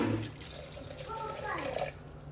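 Two glasses of water poured into a mixer-grinder jar for appam batter, giving a steady, close splashing flow with a voice speaking over it.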